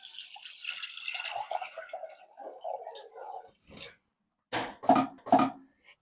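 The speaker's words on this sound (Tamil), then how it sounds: "ஸோ இன்னும் கொஞ்சம் தண்ணி ஆட் பண்ணிப்போம்." Water poured into a cooking pot in a home kitchen while idli, pongal, vadai and sambar are being made; a soft running pour for several seconds, then a few short splashy bursts close by.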